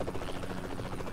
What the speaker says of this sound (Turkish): Atla helikopteri.